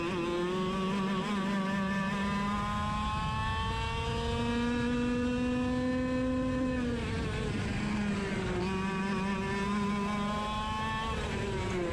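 Go-kart engines race on a track, a loud continuous buzzing drone whose pitch rises and falls as the karts accelerate out of corners and battle side by side, with no talking.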